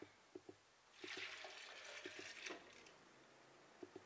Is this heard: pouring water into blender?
yes